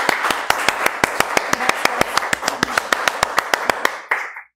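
One person claps alone in thanks after an online conference on international guidelines for antibiogram reporting: about twenty crisp, evenly spaced claps at a brisk steady rhythm, close and clear, stopping abruptly near the end.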